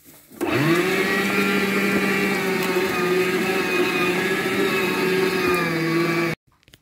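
An electric meat grinder mincing garlic cloves whirs up and runs as a loud, steady motor hum for about six seconds, then cuts off abruptly, with no one speaking.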